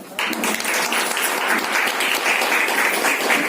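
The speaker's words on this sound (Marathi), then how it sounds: "टाळ्या होऊ देत" Audience at a women's business meeting in Badlapur bursting into sustained applause, a dense, loud wash of many hands clapping that continues steadily throughout.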